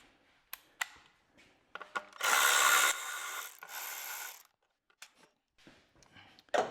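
A socket wrench works 8mm bolts off a Champion generator that will not run: scattered close ratchet clicks and metal taps, with a louder sustained rasping burst of turning in the middle, no talking.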